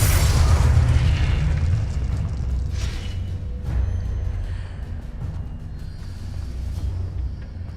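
A Confringo blasting spell goes off in Hogwarts Legacy, a heavy explosive boom at the start that rolls into a long, fading low rumble, followed by a few fainter bursts and no talk.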